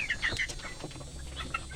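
Free-range village chickens cluck while eating a feed mix of banana stem and commercial pellets, giving a few short, fairly close squawks and clucks over a low background hum.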